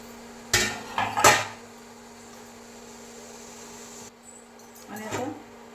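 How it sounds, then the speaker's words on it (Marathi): A metal lid lifted off a cooking pan while making vari ghavne and potato bhaji, two sharp close clanks followed by a quiet room hum and a softer clatter near the end. "झाकण काढून घेऊ."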